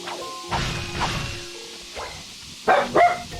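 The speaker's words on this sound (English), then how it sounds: "She barked awake because there was a noise that forced her awake." A dog in the 2002 game Ratchet & Clank barks itself awake from sleep with a handful of short, sharp bursts spread over a few seconds, the last two loudest and closest together.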